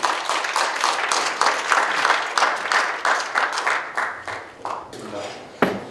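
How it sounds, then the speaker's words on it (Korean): A lecture audience at a CEO economics academy session breaks into warm applause to welcome a medical professor. The dense clapping is sustained, loud and close, then thins out and fades near the end. "큰 박수로 환영해 주시기 바랍니다"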